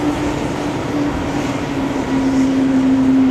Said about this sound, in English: That guy right there, little JetBlue, making a whole bunch of noise right now.